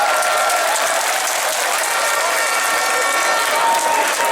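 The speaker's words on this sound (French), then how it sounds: "Applaudissez-moi ces enseignants" A large crowd at a teachers' strike rally applauds the teachers, a dense steady roar of clapping that stays loud throughout.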